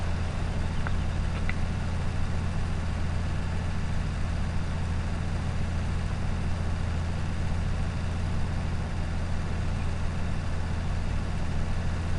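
In Farming Simulator 19, a tractor pulling a baler with its pickup down labours under load, giving a loud, steady, low engine drone with a constant hum that never lets up.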